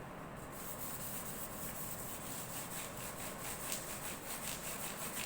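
Fine 2500-grit sandpaper polishes a handmade canjo, producing a continuous close rubbing hiss with faint rhythmic back-and-forth strokes.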